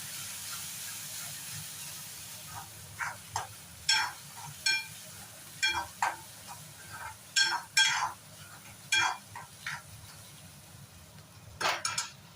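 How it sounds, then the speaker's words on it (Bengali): Bombay duck fish mixture being stirred in a pan, with a series of short scraping and sizzling bursts over a steady low hiss, close and moderately loud. "দেওয়ার পরে আবার এটাকে একটু নাড়াচাড়া করে নেবেন।"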